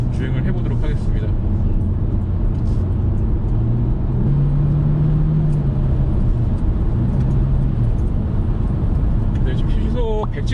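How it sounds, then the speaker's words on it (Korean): A new Hyundai Avante at highway speed in sport drive mode: steady engine and road rumble with tire noise, under someone talking throughout. "현재 여기서 이제 드라이빙 퍼포먼스 모드로 주행을 해보도록 하겠습니다."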